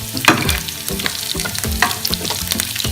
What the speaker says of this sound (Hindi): लहसुन अदरक का पेस्ट हमारा गोल्डन ब्राउन हो चुका है